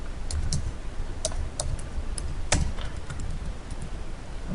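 A password is typed on a computer keyboard, a sparse series of light, close key clicks in uneven bursts over quiet room noise.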